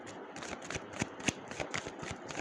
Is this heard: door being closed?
no